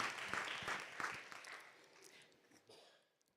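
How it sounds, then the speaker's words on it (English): Distant audience clapping at an evening candidate forum, fairly faint and thin, with a few sharper claps early on before it thins out and fades away toward silence. "You can clap for him."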